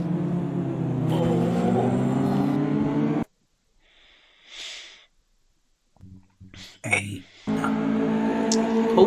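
Caterham race cars on a circuit give a droning, revving engine note that swells and then drops away, returning near the end, while people chat close by.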